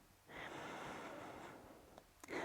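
A slow, soft inhale through the nose during a yoga class, close and quiet, one long breath followed by a brief second intake.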